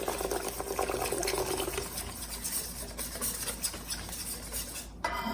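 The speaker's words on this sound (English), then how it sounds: "I'm going to sort of whisk as I stir this in." A whisk works melted butter into cornmeal waffle batter in a bowl, making a steady wet swishing with light clinks. A brief knock comes near the end. Nobody speaks.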